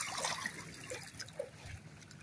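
Irrigation water pours from a PVC pipe set in the mouth of a canal outlet into a rice field, a steady, fairly quiet trickle and gurgle with no voices.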